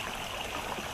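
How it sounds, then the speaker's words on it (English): Water pouring over the rock face of a flooding waterfall as rain starts up again, a steady close hiss and splashing rush that fills the whole second with no break. "the face of a waterfall that floods, and we've just had the rain start up again"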